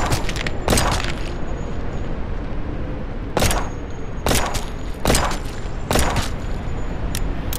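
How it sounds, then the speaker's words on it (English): Barrel explosion in the video game No One Survived, heard as several sharp, loud booming cracks spaced irregularly over a constant game background, like gunfire followed by a blast. "please let me blow that barrel up"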